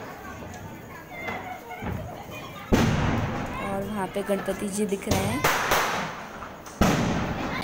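Diwali fireworks and firecrackers crackle and bang outdoors, with sharp loud bursts over a continuous crackling din, while someone talks over them.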